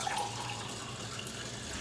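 About a cup and a half of water pours into the bottom of an Instant Pot as a steady, close splashing rush that runs without a break and has no voices over it.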